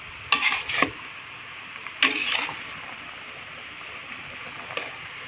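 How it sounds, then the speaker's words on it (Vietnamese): Pomelo peel for candied jam is stir-fried in a pan: a few short scraping stirs come in brief bursts over a faint, quiet background. "xào cho nó đều lên thôi à"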